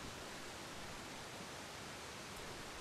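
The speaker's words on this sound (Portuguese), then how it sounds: "está aqui uma ventania dos diabos, que eu nem consigo ouvir os pensamentos" Howling wind and a rushing waterfall in the survival video game The Long Dark, a loud, steady, unbroken roar of broadband noise with no voices.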